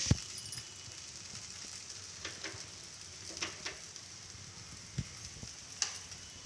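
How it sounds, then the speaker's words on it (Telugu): Soft, steady sizzle of a ragi flour flatbread cooking on a hot griddle, with occasional light taps and clicks over a continuous hiss. "ఇలా తట్టుకున్నాక పెనం పైన వేసి"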